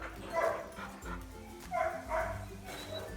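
Dogs at a kennel give a few short barks and yips in bursts, fairly close but moderate in level, with faint background noise between them.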